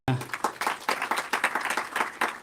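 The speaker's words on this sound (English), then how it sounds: "Ladies and gentlemen, another round of applause for Dr." Audience applause at a summit, a short burst of dense clapping from a crowd, close and steady with sharp individual claps standing out.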